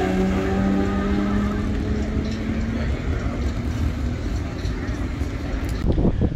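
A drag racing car fitted with air-ride suspension makes a pass, its loud engine roaring steadily with a rising tone throughout, a sharper burst near the end.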